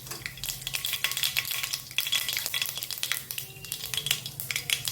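Mustard seeds crackle and sizzle in about three ladles of hot oil in a Gujarati home kitchen, a dense, steady frying hiss with sharp popping bursts and some stirring scrapes throughout, close and loud with no talk.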